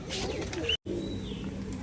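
Pigeons coo softly at a pigeon farm in Rajshahi, a low steady murmur of cooing from birds nearby, with a brief high chirp and a short dropout midway.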